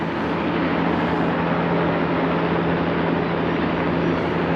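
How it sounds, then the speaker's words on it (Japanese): Helicopter traffic over New York City on a sunny Sunday, a steady, continuous engine drone with a low hum that holds unchanged throughout, fairly loud and without a clear approach or fade. "結構今日はヘリコプターが"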